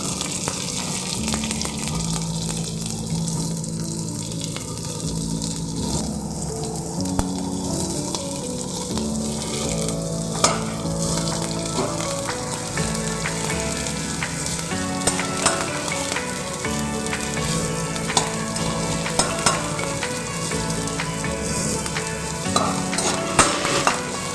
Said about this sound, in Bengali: ফোড়নটা ভাজা ভাজা হওয়া হওয়ার পরে আমি দিয়ে দেবো পেঁয়াজ কুচো